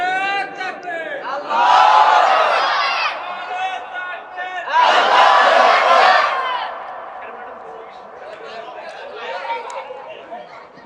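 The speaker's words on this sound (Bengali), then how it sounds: "একটা যুবকটে স্লোগান দিবেন দেখো কার গলায় কেমন জোর স্লোগান দেন" Young men in a crowd at a political rally in Gaibandha chant slogans in two loud, roaring surges that swell and fade, with a restless murmur of the gathering between them.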